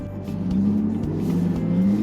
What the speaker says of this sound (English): Let that exhaust kick out.